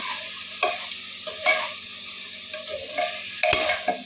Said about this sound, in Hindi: ये गया मेरा मटर। अच्छा सा स्टर दे देंगे